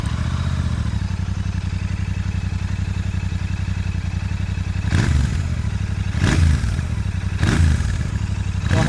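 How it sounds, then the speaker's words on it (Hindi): A Royal Enfield Continental GT 650 with its stock exhaust idles with a loud, steady thumping note, then the throttle is blipped three times in a row. "बहुत ही ज़्यादा ज़बरदस्त स्टॉक एग्जॉस्ट की आवाज़ आ रही है।"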